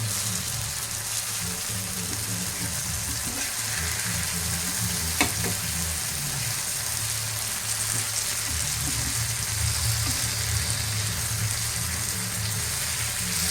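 Pieces of elephant foot yam frying in a pan, a steady dense sizzle that continues without a break, with a brief clink of a utensil partway through.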